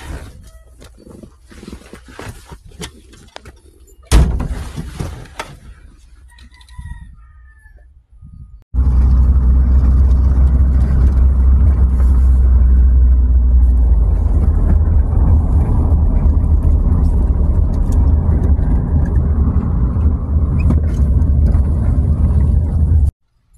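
A neglected old hot rod's engine running steadily and loud after a few knocks and shuffles, a constant low rumble filling the rest of the clip until it cuts off abruptly.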